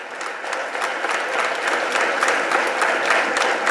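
Dense, steady applause from a large crowd at an outdoor election rally in Tamil Nadu, loud and sustained throughout with no break.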